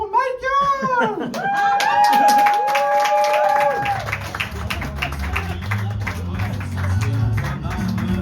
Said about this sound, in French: Faites un tonnerre d'applaudissements pour Michael.